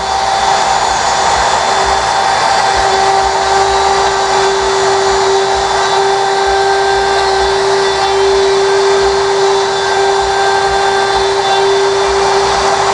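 A Festool router trims wood for SOSS hinge installation in a yacht shop, running as a loud, steady, continuous whine with a constant tone and no pauses or talk.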